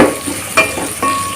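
Chopped carrots fry with ginger garlic paste in a pan, a close, steady sizzle broken by a few scraping stirs of a spoon.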